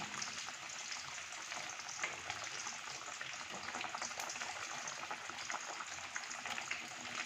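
Pabda fish simmering in a green-chilli curry with mango ginger, a steady bubbling and frying hiss running evenly throughout at moderate level, with no talk.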